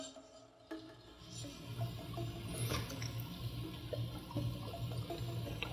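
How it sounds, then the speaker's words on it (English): Gelatin mixture being poured into a worm mold, a soft liquid pouring and trickling with low gurgling, quiet and close. "And then we're going to go ahead and pour in our mixture."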